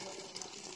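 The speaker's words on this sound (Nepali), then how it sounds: "ल हेर्नुहोस् पानी कस्तो मजाले" Natural water flows steadily with a soft, even rushing trickle, faint and close, alone without voices.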